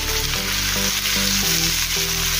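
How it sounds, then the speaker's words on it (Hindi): Finely chopped onion hits hot oil with cumin seeds and sizzles loudly and steadily, while a low rhythmic tonal hum, likely an exhaust fan or music, runs underneath throughout. "इसमें हम अभी प्याज डालेंगे बारीक कटा हुआ"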